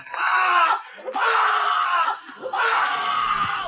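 In a dark revenge-story video game, a woman lets out three long, loud screams of pain, each cut off by a brief pause, close and harsh.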